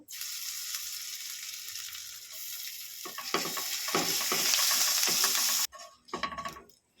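Grated ginger hits hot oil with a bright, loud sizzle that swells as it is stirred, with metal spoon scrapes near the end before the hiss briefly cuts off.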